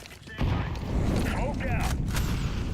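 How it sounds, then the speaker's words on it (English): Grenade blast in a first-person shooter game, a sudden heavy boom followed by rumbling debris and scattered crackles, with a voice speaking over it. "Grenade out."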